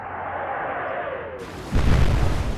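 Naval guns fire in the warship game Atlantic Fleet: a steady rumbling hiss gives way to a loud, heavy booming blast with a rolling low-end roar.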